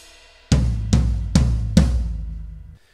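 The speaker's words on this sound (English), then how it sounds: "We're going to start off by hitting our ride cymbal once, but then this time we're going to our floor tom" One ride cymbal hit opens, followed by three more quick strikes, four floor tom hits in all, deep and booming up close, the last letting its low tone ring out before cutting off.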